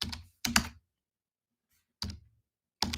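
Four quick, close keypress clatters on a computer keyboard, in two pairs with a pause between, on an otherwise silent background.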